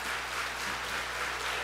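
Wrestling crowd applauding steadily at a 2CW reunion show, a dense, even wash of clapping heard at some distance with no breaks.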